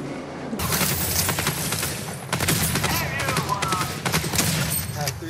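Repeated shotgun blasts in Fortnite Zero Build ring out as loud, sharp bursts, several shots in fairly quick succession with busy game noise in between, and voice chat is mixed in faintly.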